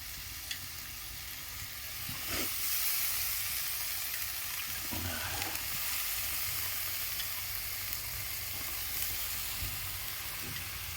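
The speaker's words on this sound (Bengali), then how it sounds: "আজকে করলা ভাজি করছে পলি, শুধু পেঁয়াজ, ছোট আলু আর করলা দিয়ে" Bitter gourd frying with onion and small potatoes gives a steady close sizzle for the whole stretch, with a few soft scrapes and clatters of stirring along the way.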